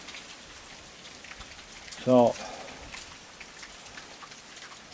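Steady night rain pours on a trailer, pattering softly throughout, a faint continuous hiss with a brief spoken word in the middle.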